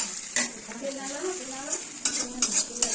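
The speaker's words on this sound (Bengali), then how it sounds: "দেখতে পাচ্ছেন সুন্দর করে আমি ভেজে নিচ্ছি" Onions fry for a Bengali katla fish curry while a utensil stirs them in the pan: a steady sizzle with scraping and occasional sharp clinks of metal, close and moderately loud, with no talking.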